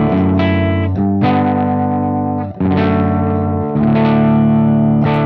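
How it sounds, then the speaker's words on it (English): An electric guitar signal runs through a Bardic Audio HM Demon pedal's EQ, giving distorted sustained chords played in a few strummed hits, each ringing out loud and thick with a brief gap midway. "So now we're taking our clean signal and running it through this really powerful EQ setup."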